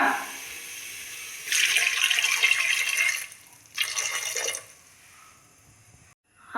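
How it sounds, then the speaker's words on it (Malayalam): Water runs and splashes into a pressure cooker holding yam and plantain in two bursts, the first longer and louder, close by, then quiet. "ആവശ്യത്തിന് വെള്ളം ഒഴിക്കുക."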